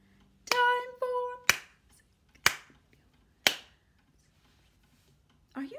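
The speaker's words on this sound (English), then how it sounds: "Time for music, clap your hands" Sharp single hand claps, four evenly spaced about a second apart, with a short sung or tonal note at the start. Each clap rings out briefly in a quiet room, and a little sound returns at the end.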